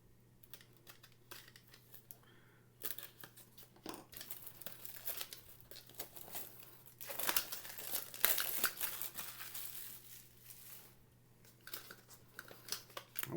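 Packaging for a Vosteed Bellamy liner-lock knife with a black micarta handle is unwrapped close up, with quiet crinkling, tearing and scattered clicks and taps, faint against a low steady hum.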